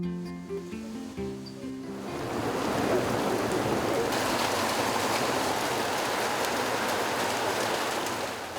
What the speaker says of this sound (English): heavy rains everywhere